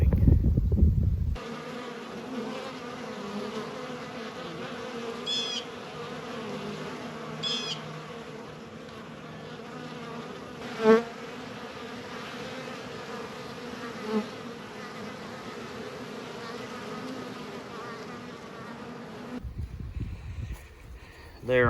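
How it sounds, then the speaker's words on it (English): Honey bees buzz around insulated hives after an ice storm, a steady low hum of many insects outdoors with occasional louder passes of individual bees near the listener, and brief handling noises at the start and end. "I have bees that are active in all of these hives."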